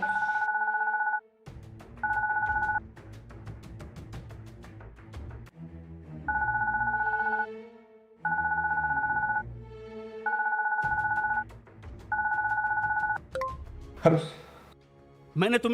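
Telephone rings in repeated two-tone bursts, about seven rings in a row with short pauses, loud and close and never answered, while people talk quietly between and under the rings.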